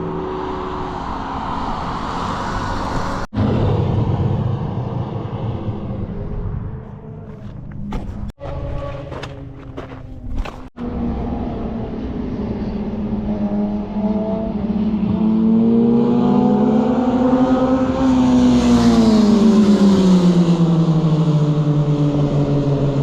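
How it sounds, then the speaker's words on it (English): A Lamborghini passes on a roadside along a Southern California highway, its engine note swelling and rising in pitch as it nears, then fading, loud and close, with no talk over it. "Lamborghini right there, guys. Another one."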